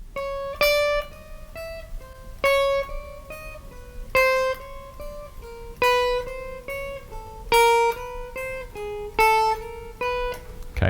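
Single guitar notes picked one after another in a steady, even rhythm for a second-upstroke practice exercise, each note ringing clearly with a bright attack, close and alone with no talking.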